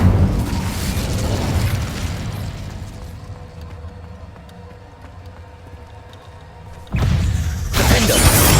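Incendio fire spell in Hogwarts Legacy: a loud roaring, crackling burst that settles into a quieter rumbling crackle, then a fresh loud blast erupts near the end, with no voices.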